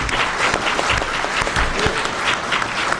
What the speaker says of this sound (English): If we could have a round of applause for the panelists, please, before they get up